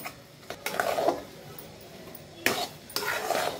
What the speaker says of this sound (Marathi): मस्त हलवून घ्यायचं